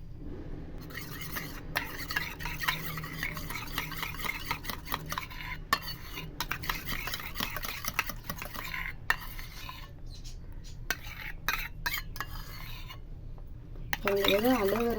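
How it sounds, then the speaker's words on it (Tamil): A spoon stirs almond face cream mixed with rosewater and aloe vera gel in a small bowl, giving repeated close scraping and clinking strokes with brief pauses, and someone speaks over it. "இப்போ இது நல்லா மிக்ஸ் பண்ணிக்கலாம்."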